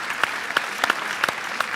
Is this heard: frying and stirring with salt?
no